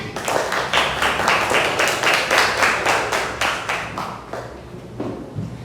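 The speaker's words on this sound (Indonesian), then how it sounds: "kasih tepuk tangan" A classroom audience claps in rhythmic, evenly spaced beats that are close and moderately loud, then thin out toward the end.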